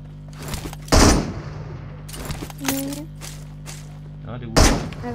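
Gunfire in the mobile battle royale game PUBG Mobile comes as several sharp, loud bursts spaced a second or two apart, with quieter shots and clatter between them.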